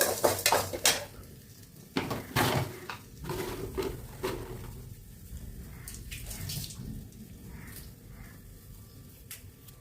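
A pot of salted varagu curd rice is stirred with a spoon, giving repeated scraping and clinking against the metal sides, loud at first and then softer and more irregular, with no talking.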